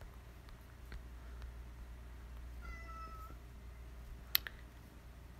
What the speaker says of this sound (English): My cat Basil likes to join me for video, so he's probably going to come on and provide some commentary here too.